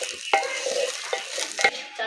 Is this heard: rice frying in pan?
yes